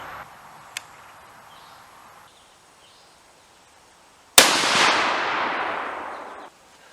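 A single loud, close 6.5 Creedmoor rifle shot firing a 142-grain Sierra MatchKing load during a powder test, a sharp crack followed by a long decaying outdoor echo after a quiet pause.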